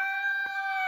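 Close, loud rooster crowing, a held, tonal call that fills the whole short stretch, with no talking over it.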